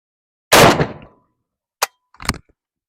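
A Tokarev TAR12 shotgun fires a string of loud, close shots, one heavy blast followed by two sharper, shorter reports after a pause, with quiet in between and no talk.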